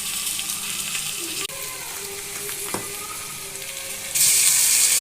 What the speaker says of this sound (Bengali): তেজপাতা কালো জিরে ফোড়ন দিয়ে আলুটাকে ভেজে নেব